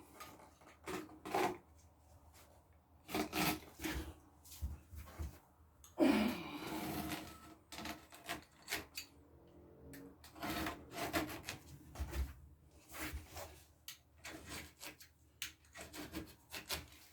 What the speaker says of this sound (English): your razor and you're going to cut out the shape of the toilet bowl